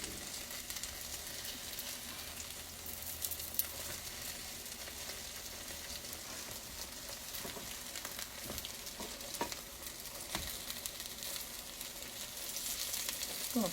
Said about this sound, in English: we're going to let them fry for a little while